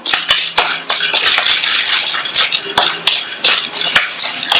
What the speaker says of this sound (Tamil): இந்த பருப்பு வறுபட்டு பொன்னிறமா வர வரையும் வறுக்கணும்.